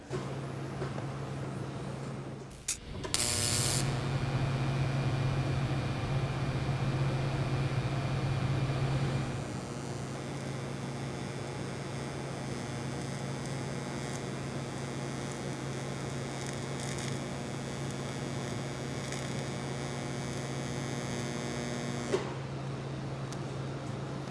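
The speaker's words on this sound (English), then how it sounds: "You're pretty much gonna be arcing against the steel right next to it, all the way down" Aluminum foil is arc welded against steel right beside it: a short crackling burst, then a steady electric buzz with a droning tone that holds for about twenty seconds before stopping, with no talking.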